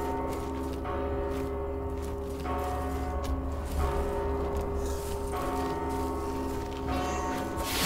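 A resonant bell rings in the dark-fantasy video game Mortal Shell, sustaining steady humming tones with soft recurring strikes over a continuous low background drone, with no one speaking.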